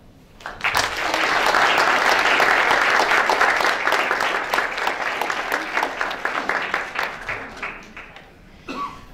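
An audience at a career forum applauds a speaker. Clapping swells quickly, stays full and close for several seconds, then thins into scattered claps with light chuckles near the end.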